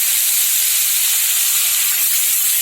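Chopped onions hit hot oil with dry chillies and mustard seeds tempering for a Bengali sour shol fish curry, giving a loud, continuous close-up sizzle and hiss with no voices over it.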